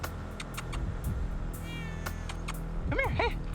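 A cat stuck up high meows during a ladder rescue, several short rising-and-falling cries toward the end, close and clear over steady low background rumble and faint voices.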